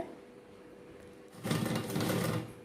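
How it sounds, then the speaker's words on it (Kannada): A sewing machine runs a normal straight stitch for about a second after a quiet start, a steady close mechanical whir with no talking. "ಈಗ ನಾವು ಒಂದು ಸ್ಟಿಚ್ ಹಾಕ್ಕೋಬೇಕು. ಇದು ನಾರ್ಮಲ್ ಸ್ಟಿಚ್"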